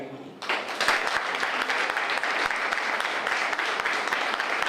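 Audience applause at a 2025 prize giving and awards ceremony, a dense, steady wash of many hands clapping that swells in after a brief quiet start and holds loud and continuous throughout.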